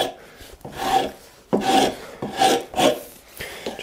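Rasping strokes of a hand tool smoothing a wooden hand plane handle, a series of rhythmic scraping rubs of varying length, close and fairly loud with no voices.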